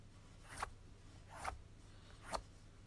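Three sharp clicks made by hand on a pair of K-Swiss sneakers, spaced evenly under a second apart, each a crisp close snap against a quiet background.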